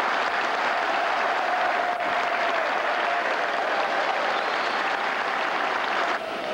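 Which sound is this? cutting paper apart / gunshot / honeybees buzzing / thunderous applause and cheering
thunderous applause and cheering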